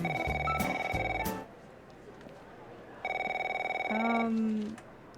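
A telephone rings in repeated electronic bursts, loud and close, with a longer ring followed by a second burst after a pause and a brief voice or tone near the end.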